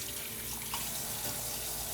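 Water runs steadily from a classroom sink tap while hands are rinsed, a close, even hiss and splash lasting the whole two seconds with no talking.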